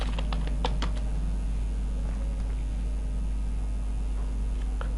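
Keys on a computer keyboard are tapped in a quick cluster of close clicks near the start, then the room goes quiet under a steady electrical hum.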